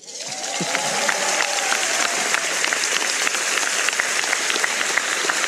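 Sustained applause from an audience at an honorary doctorate ceremony for Sônia Guajajara, steady dense clapping that fills the whole stretch at even volume.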